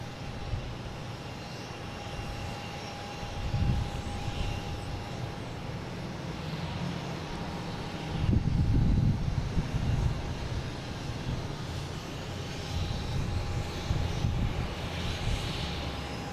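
A JetBlue jet at Boston Logan Airport roars in a broad, steady engine rumble that swells and fades at moderate distance over the airfield's background hum.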